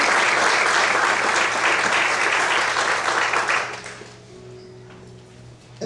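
A church congregation claps together in sustained applause during an evening service, loud and dense for about four seconds before fading out into a quiet, hushed room.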